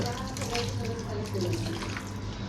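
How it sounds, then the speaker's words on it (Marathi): A steady stream of hot water pours and splashes into a pan while cooking paneer, with a continuous hissing wash of sound and no speech. "थोडंसं आता गरम पाणी ॲड करूया"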